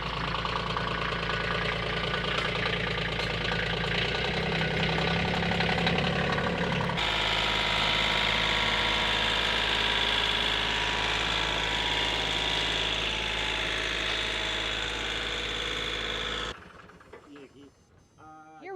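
A Kioti K9 tractor engine idles nearby with a steady low rumble and mechanical knock, continuous throughout before a brief drop near the end.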